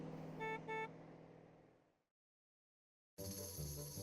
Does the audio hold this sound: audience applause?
no